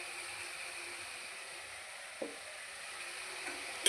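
Garlic and curry leaves sautéing in oil in a pan, a soft continuous sizzle with a couple of small clicks from stirring, quiet and close, no voices.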